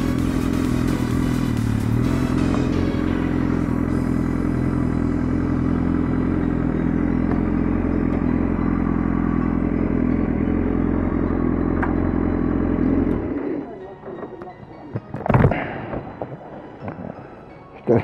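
BMW motorcycle engine running steadily with a clattery, throbbing idle, close and loud for about thirteen seconds, then cutting out to quieter rustling and a couple of brief knocks.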